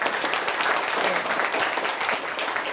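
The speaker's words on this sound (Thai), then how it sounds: "ปรบมือให้กลุ่มนี้หน่อยค่ะ" A group of lower-secondary students in a Thai science class claps for classmates, a brisk burst of many hands applauding for nearly three seconds.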